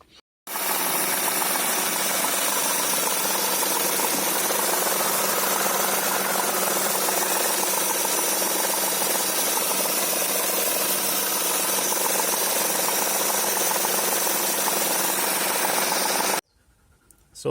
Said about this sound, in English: it made the engine sound really weird with lots of chattering noises